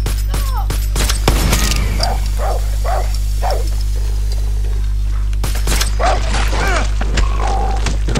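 A dog in Far Cry 6 barks in a rapid string of yips and bow-wows, loud and close, with short gaps between the bursts.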